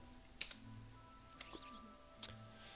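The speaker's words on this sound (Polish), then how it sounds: "E, klawiatura." Three sparse, quiet clicks from a computer keyboard, spread out over a faint steady background hum, with no talk.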